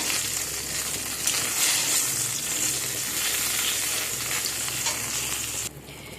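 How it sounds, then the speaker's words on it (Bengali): Eggplant slices fry in hot oil, giving a loud, continuous crackling sizzle with occasional stirring that drops away abruptly near the end as the pan goes quieter. "আমার এখানে বেগুন ভাজা প্রায় হয়ে এসেছে।"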